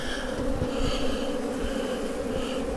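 Honey bees swarm noisily at an open hive during honey harvest, a dense, continuous close buzz that swells slightly with no voices.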